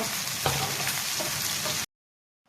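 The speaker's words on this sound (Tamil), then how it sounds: "இப்போ பிரண்டையே போடுறோம். பிரண்டை நல்லா வதக்கணுங்க" Chopped pirandai (adamant creeper) fries in sesame oil with browned urad dal for a chutney, a dense steady sizzle with a few soft stirring clicks that cuts off abruptly, leaving near silence.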